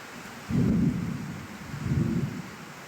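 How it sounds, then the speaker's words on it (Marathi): Heavy monsoon downpour with thunder in Bhandara district, Maharashtra: two deep, rolling thunder rumbles a second apart over a steady background hiss of rain. "मुसळधार पाऊस जिल्ह्यामध्ये कोसळलेला आहे"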